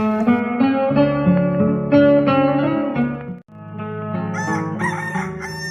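A rooster crows twice in succession, each call long, loud and close, with the second starting right after the first ends.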